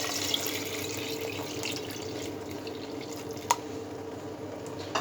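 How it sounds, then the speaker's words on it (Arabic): Water poured from a tap into a pot of yellow lentils and vegetables in a home kitchen, a soft steady trickling and splashing with one brief clink, faint and alone. "هنزل عليه بقى بالمية، هننزل بالمية"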